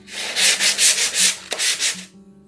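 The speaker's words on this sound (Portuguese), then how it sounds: "Eu vou precisar dar uma reforçada na lixada aqui pra ver se iguala." Someone hand-sands a piece in a small craft workshop with quick back-and-forth strokes, about eight raspy close-up passes in an even rhythm, then stops. There are no voices.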